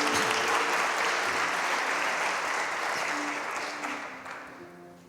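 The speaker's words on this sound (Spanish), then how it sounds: "Aplaudamos al Señor," A church congregation applauding during a sermon, dense sustained clapping from a full room that slowly fades toward the end, with a few faint voices underneath.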